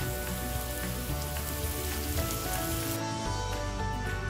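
Beef tongue for a Goan roast sizzles steadily in a pan as it reheats, a dense, even crackle running close and continuous from start to finish.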